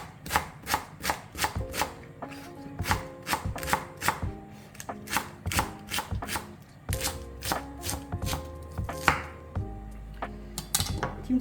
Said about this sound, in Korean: 그리고 이제 파는 어스더를 썰어주시면 되고요